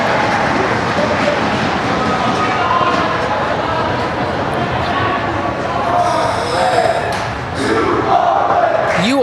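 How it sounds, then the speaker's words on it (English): Rhythmic clapping from a crowd section at a junior varsity boys' basketball championship game in a gym, under a commentator's steady talk, with crowd noise and the squeak and thump of play behind it. "And Frisch crowd section clapping here"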